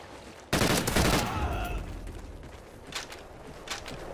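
Gunfire in Call of Duty Ghosts: a loud burst of automatic shots erupts abruptly, then fades into scattered shorter bursts and single cracks in the distance.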